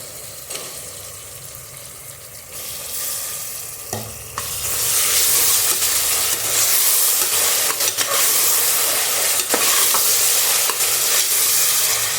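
Tomatoes hiss and sizzle in hot oil in a pan for kushka rice, the frying growing louder and denser as a spatula stirs and scrapes now and then, close up with no voices.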